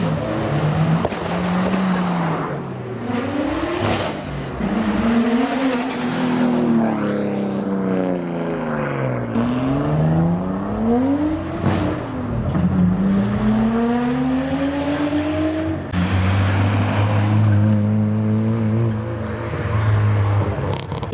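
Modified cars leaving a car show, among them an R34 Skyline in Bayside Blue and a Supra, rev loudly in rising and falling engine sweeps, one after another, with no talk.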